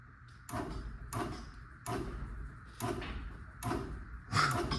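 A Chamberlain B4613T belt-drive garage door opener with a failing travel module strains in short bursts, five or six clunking pulses at roughly even intervals, each followed by a brief pause, barely raising the door, fairly close.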